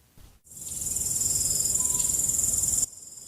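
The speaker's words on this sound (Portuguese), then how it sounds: "sons de grilo ao fundo" Crickets chirp in a steady, high, continuous trill that starts abruptly, holds for a few seconds, then cuts off, alone over a faint low background.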